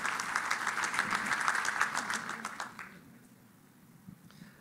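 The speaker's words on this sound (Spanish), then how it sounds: "Un fuerte aplauso para ella, por favor" Audience applause at a business innovation panel, a dense wash of clapping that fades out after about three seconds, leaving a quiet room with a faint stray sound near the end.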